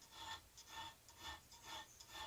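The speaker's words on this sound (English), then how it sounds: "I use a chainsaw file just to get the bulk of the work done while it's nice and soft." A chainsaw file rasps across a soft spring steel bowl lathe hook in repeated back-and-forth strokes, a bright scraping rhythm of about four passes, close and clear with no talk.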